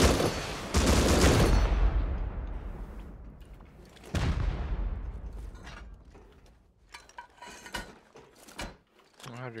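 Gunfire in the survival game Rust during a raid: heavy bursts of shots ring out with long decaying echoes, then a second volley and scattered sharper cracks follow, fading in and out.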